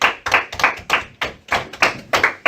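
A math class claps in a loose, uneven rhythm, about a dozen distinct hand claps spaced irregularly and fairly close, with no voices over them.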